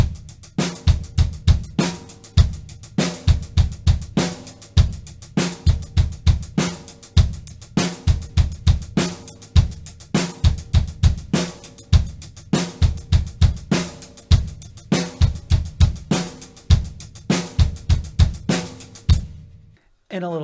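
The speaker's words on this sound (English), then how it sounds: "Okay, so the foot pattern in number 8 sounds like this." Drum kit beat with a bass drum foot pattern, fast and dense repeated hits with cymbals in a steady loud groove, ending abruptly near the end.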